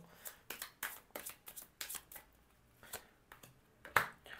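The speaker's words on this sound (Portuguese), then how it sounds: "Vamos então tirar aqui algumas outras cartas com o mesmo baralho" A deck of cards is shuffled for a card reading, in quick riffling bursts and soft slaps repeated about a dozen times, close and fairly quiet with no talk.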